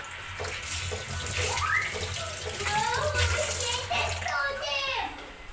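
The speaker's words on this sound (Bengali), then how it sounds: "হাতটা ধুয়ে নিই" Hands are washed under a running tap, with steady close water flow throughout while a child and an adult talk over it.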